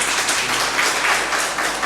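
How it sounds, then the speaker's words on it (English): Audience applause at an investor-education session on mutual funds, a steady dense wash of clapping from a sizeable crowd, loud and close, with no talk over it. "Can we have a big round of applause for him?"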